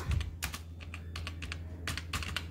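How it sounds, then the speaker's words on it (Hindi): Keys clatter on a computer keyboard while values are entered into an Excel spreadsheet cell, a quiet, close series of irregular taps in small bursts with short pauses between. "ये मैंने मार्क टाइप कर दिया यहां पर"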